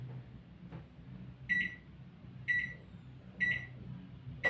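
An oven baking pizza hums quietly while three clear electronic beeps sound at even intervals, followed by the start of a fourth, with no talk.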